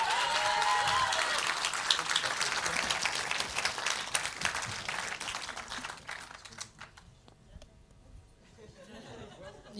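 Audience applause at a 2024 award ceremony, dense clapping from a seated crowd with some chatter that thins and fades out over the second half.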